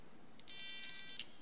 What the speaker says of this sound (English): That sound is the mobile network connection.